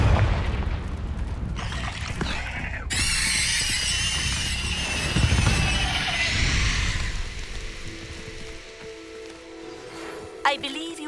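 An explosive Confringo spell goes off in the Hogwarts Legacy video game with loud bursts and booming blasts, then crackling debris and a lingering rumble that settles into quieter ambience, with a sharp hit near the end.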